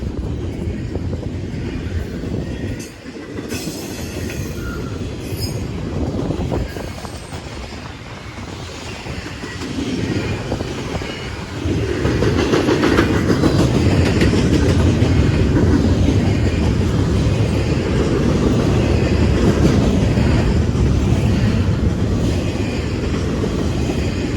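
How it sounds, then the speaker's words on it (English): CSX freight train I-333 passes Lake Avenue in Blasdell, NY: a loud, steady rumble with clattering wheels on rail that builds and then holds strong as the cars roll by close at hand. "The symbol on the train is CSX I-333."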